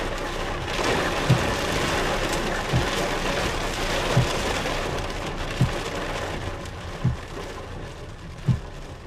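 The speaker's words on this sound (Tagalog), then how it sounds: "Bumuhos na uli." Heavy rain pours steadily in a dense, constant wash, with faint low thumps recurring every second or so beneath it.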